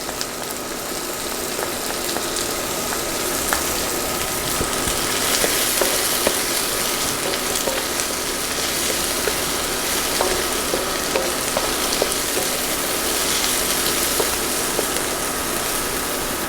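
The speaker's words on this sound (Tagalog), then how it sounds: "So, igigisa ko na yung ating sibuyas. Okay, ilagay na rin natin yung bawang" Chopped onions and garlic sauté in a hot pan, making a loud, dense, continuous sizzle with fine popping and crackling throughout, heard up close with no voices.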